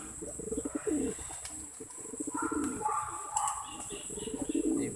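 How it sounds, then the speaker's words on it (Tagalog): Pigeons cooing in a loft in Tacloban, several soft throaty coos close by with light chirps and a brief flutter of wings. "Yan, marami na yung ibon natin."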